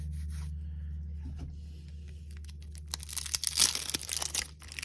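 Foil wrapper of a 1986 Topps baseball card pack being torn and crinkled open, a soft rub first, then a louder burst of ripping and crumpling close by.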